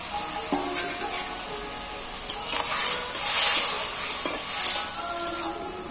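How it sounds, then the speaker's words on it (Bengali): Morola fish dropped into a boiling spicy gravy, a sharp knock followed by a loud, swelling hiss and sizzle that rises and fades over a few seconds, close by. "এইবার আমি মাছগুলো ঝালের মধ্যে তুলে দিচ্ছি"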